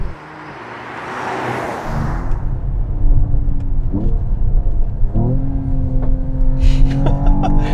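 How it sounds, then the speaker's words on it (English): A Mercedes-AMG GT 53's engine revs and rumbles loudly up close, with sharp exhaust pops and cracks breaking through the roar. "Loud cracks from the AMG exhaust."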